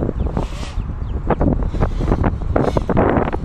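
Strong gusting wind buffets the microphone outdoors during a drone's first test flight, a loud continuous roar with rushing surges throughout.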